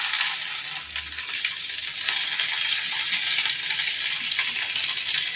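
Chopped onion, green chilli and curry leaves fry in hot oil for adai, a loud continuous close sizzle with crackling and some stirring.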